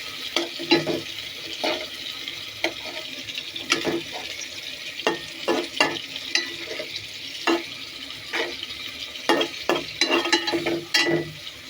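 Prawn korma sizzling and frying in oil in a pan, with steady close crackle broken by repeated sharp stirring scrapes and clacks of a spoon.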